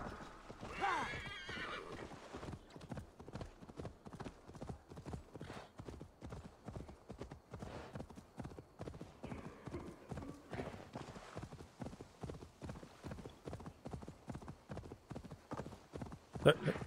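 A horse in the video game Assassin's Creed Valhalla, heard as a long steady trot of clip-clopping hooves with a neigh near the start, while a person talks over it.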